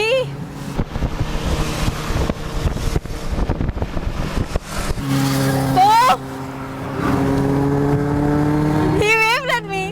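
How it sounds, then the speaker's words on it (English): Superbikes whizz past on an open road. Heavy wind buffeting comes first, then loud rising engine whines sweep by close, one after another. "something whizzed by. Check out these super bikes!"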